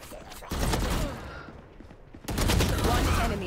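Rapid bursts of gunfire from a Valorant esports match, loud dense volleys at the start and again near the end with a brief lull between, ending on a headshot, while a commentator's voice sits underneath.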